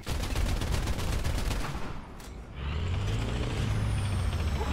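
A tank's HEAT round firing in War Thunder on a Leopard PSO with a bulldozer blade: a loud, sustained roaring blast with rumble, a brief dip, then a continuing low engine-like drone, with no voices.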